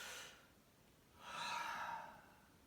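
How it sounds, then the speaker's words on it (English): Two quiet breaths during a stretching exercise, a short exhale followed by a longer, fuller breath drawn in, close and soft. "Big breath in."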